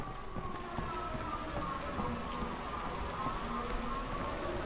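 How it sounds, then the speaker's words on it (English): An air raid siren wails in Wolfenstein: The New Order, a sustained rising and falling tone that drifts steadily throughout, moderately faint and distant over low rumbling game ambience, with no speech. "Is that an air raid siren?"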